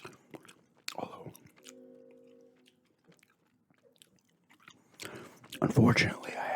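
Big League Chew bubble gum chewed close to the mic at night, with soft, wet mouth clicks and smacks that drop away briefly mid-clip before returning louder and more continuous near the end.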